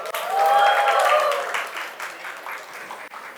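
Audience at a keynote session of a developer conference cheering and applauding, loud broadband clapping with whoops that swells at the start and tapers off over a few seconds, with some voices mixed in.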